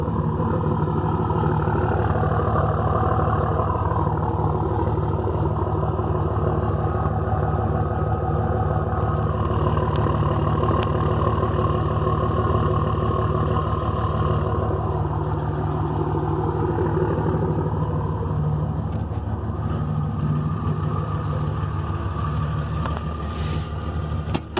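A 5.9-liter Ram pickup truck idles with a 4-inch muffler delete and 6-inch tip, a steady, deep rumbling exhaust drone that holds even and loud throughout without revving.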